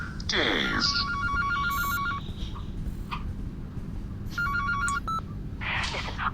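A telephone rings inside the horror video game The Baby in Yellow, with two separate bursts of rapid electronic trilling over a low ambient hum and some faint game noises.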